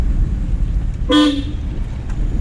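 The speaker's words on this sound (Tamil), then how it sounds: "நல்லா அவர் ஹார்ன் அடிக்கல, தப்பாக வருது" During a driving lesson, a car horn gives one short, clear toot of about a third of a second over the low rumble of the idling car; no one speaks.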